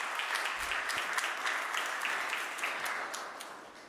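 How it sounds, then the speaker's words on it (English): Audience applause at a National Science Day celebration, a steady dense wash of clapping from a large crowd that holds for the whole stretch and fades slightly at the end. "Give him a big round of applause."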